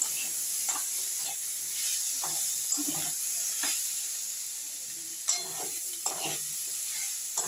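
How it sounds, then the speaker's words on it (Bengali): Ground spices fry in hot oil for a yam and shrimp curry while a spatula stirs them, producing repeated scraping strokes over a steady close sizzle, with no voices. "এবার ভালো করে একটু নেড়ে কষে নেবো"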